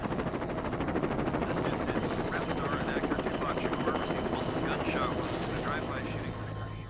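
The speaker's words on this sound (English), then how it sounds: "The helicopters that appear in the first seconds of the video" A helicopter's rapid rotor chop pulses loud and steady throughout, with faint voices mixed underneath.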